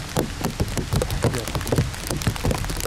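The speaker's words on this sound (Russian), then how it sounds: "В этой местности вообще дождей не намечалось. Но, блин, так вот резко пошел." Sudden rain falling in a forest, a dense close patter of drops striking a surface, loud and continuous with no voices.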